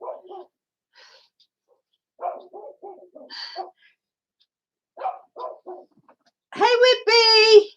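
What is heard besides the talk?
dog barking down the road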